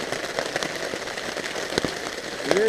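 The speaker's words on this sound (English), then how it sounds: "It's pouring." Heavy rain pours onto a lean-to shelter during a hunting trip at Eglin, a dense steady patter with scattered sharper drops and a few louder taps, no talking.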